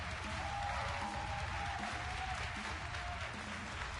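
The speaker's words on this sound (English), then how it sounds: "One final round of applause for our speakers." Audience applause for debate speakers after a question and answer session, a steady, moderate wash of clapping held evenly for a few seconds over a low background rumble.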